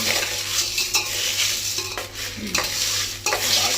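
Steady sizzling and stirring of silver in a hot pan, with scraping of metal against the pan surface and occasional clinks, continuous and close.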